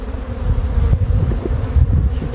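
Loud, close droning buzz of many honey bees around a hive during an April hive inspection, a continuous low hum with some wind rumble on the microphone.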